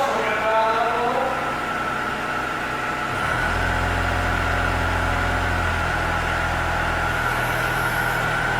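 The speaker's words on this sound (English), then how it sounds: "It's got the dial throttle, so we're going to dial that a little." A 2016 IHI 25V-4 compact mini excavator engine idles steadily, then its throttle is dialed up and the low engine drone grows louder and fuller, running continuously at close range with no talk.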